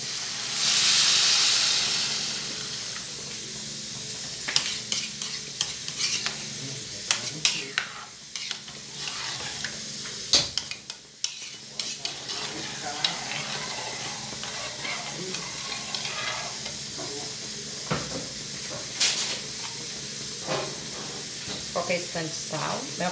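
Food sautéing in a pan before beans are cooked, with a soft steady sizzle, a loud hiss burst at the start and scattered clinks of a spoon against the pan, while someone talks over it.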